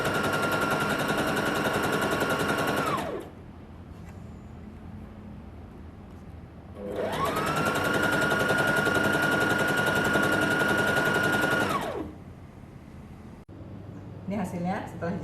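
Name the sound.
sewing machine sewing the inner leg seam of pajama trousers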